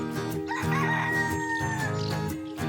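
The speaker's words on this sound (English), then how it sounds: "It's a rooster. I hear a rooster." A single rooster crows one long, loud cock-a-doodle-doo over a continuous musical backing.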